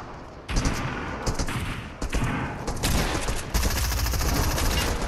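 Rapid bursts of gunfire from the video game Fortnite, a loud volley of repeated shots in clusters with brief pauses, building into sustained firing toward the end.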